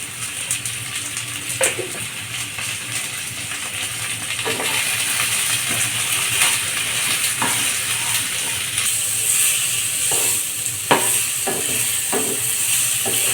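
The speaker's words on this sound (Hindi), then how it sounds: "ऐसे चला के फ्राई कर लेंगे। मसाला को थोड़ा सा भून लेंगे आलू के साथ में।" Potatoes with spices including cumin powder and salt are stirred and fried in a pan, a steady sizzle punctuated by sharp clinks and scrapes of the spoon against the pan, the frying growing louder partway through.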